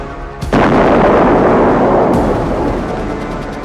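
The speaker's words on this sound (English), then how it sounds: "a cheap firework detonated near the intersection, creating a bang and a streak of flame like a fallen UAV." A cheap firework detonates outdoors near a road intersection with a single loud, sharp bang that rolls into a long, rumbling boom slowly fading away.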